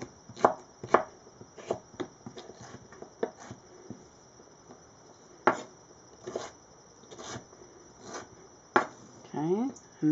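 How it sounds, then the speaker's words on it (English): Knife chopping vegetables into julienne sticks on a cutting board, a series of crisp, irregular close taps with short pauses between them, fairly quiet and without talk. "we're going to cut them in julian slices"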